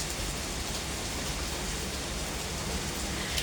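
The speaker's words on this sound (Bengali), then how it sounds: "এত পরিমাণ বৃষ্টি হচ্ছে যা বলার মতো না" Heavy morning rain pours down steadily, a dense even hiss of falling water, loud and constant with no voices.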